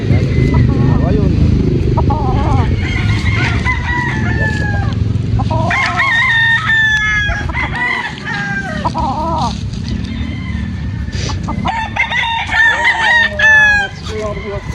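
Gamefowl roosters crowing repeatedly, several loud crows overlapping and following one another, with clucking and a motorcycle-like engine rumble in the background.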